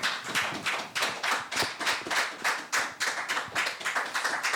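A church congregation claps in a steady, rhythmic beat, loud and close with evenly spaced bursts and no cheering voices or speech.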